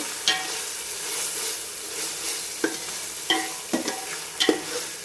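Ginger garlic paste frying in oil for chicken biryani, a steady close sizzle broken by several distinct spatula scrapes and knocks against the pan.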